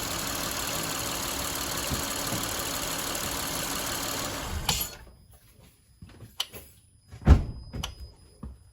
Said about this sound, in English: the engine just shut off